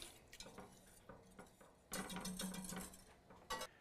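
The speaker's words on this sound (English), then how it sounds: "Just get this whisked up here." A whisk stirs chili powder, garlic powder, kosher salt and sugar in a bowl, making quick scraping clinks and rattling strokes in irregular bursts, close and fairly quiet.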